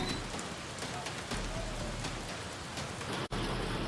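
Heavy monsoon rain pours down in a dense, continuous hiss of drops hitting surfaces. It stays loud and unbroken throughout, apart from a brief dip near the end, with no voices.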